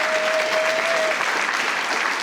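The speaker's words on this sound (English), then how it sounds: "Can we give him another round of applause?" Applause for a student speaker at a school board meeting, a steady, dense wash of clapping from a roomful of people, loud and continuous throughout.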